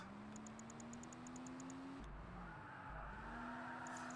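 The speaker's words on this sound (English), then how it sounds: "the noises are really good, like the tires, tires going off, the engine noises" Racing game Project Gotham Racing on the original Xbox plays quietly: a steady car engine drone rises in pitch, with a shift midway and a faint rapid ticking overhead, no talk.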